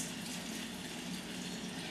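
Filtered water pours steadily over grains being rinsed for sprouting flour, a constant close splashing rush with no pauses.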